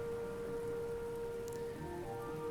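Steady rain falls in the Book of Hours game weather effect, a soft continuous patter with a held tonal hum underneath.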